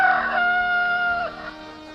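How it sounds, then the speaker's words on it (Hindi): A rooster crows once, loud and close, a long drawn-out call that trails off after about a second and a half. "रात्रि बीतने के बाद मुर्गे ने बाग लगाई"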